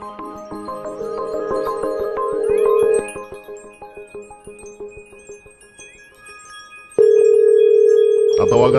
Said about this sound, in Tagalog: Ngayon po, susubukan natin tawagan si Miss Sas Rogando.